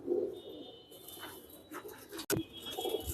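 Pigeons coo softly in low, rolling calls, with a brief clatter near the end; no speech over them.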